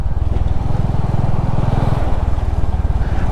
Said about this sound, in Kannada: ಲೋ ರೇವ್ ಇಂಜಿನ್ ಅಲ್ಲ, ಒಂದು ಡುಗ್ ಡುಗ್ ಡುಗ್ ಡುಗ್ ಡುಗ್ ಡುಗ್ ಡುಗ್ ಡುಗ್ ಅಂತ ಉಂಟಲ್ಲ, ಆ ಒಂದು ಸೌಂಡ್